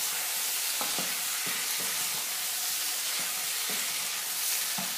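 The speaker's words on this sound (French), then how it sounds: "Je mets deux cuillères de sel aussi. Je mélange ça bien." Potatoes with curry, chilli and salt sizzle steadily in a frying pan as a utensil stirs and scrapes through them in irregular knocks, close and moderately loud with no talking.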